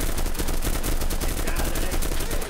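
Rapid, sustained gunfire from an STG-44 assault rifle in a multiplayer shooter game, loud and close, with dense overlapping bursts filling the whole stretch without pause.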